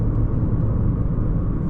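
A 2025 Chevrolet Trax small SUV corners on a gravel-strewn road, its engine and road noise forming a loud, steady low rumble with no talking.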